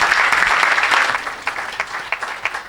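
A church congregation at an evening worship service breaks into loud, dense applause that swells at once and then thins into scattered claps toward the end, with no voices over it.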